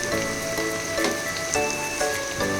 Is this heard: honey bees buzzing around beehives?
no